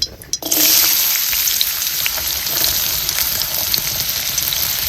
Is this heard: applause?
no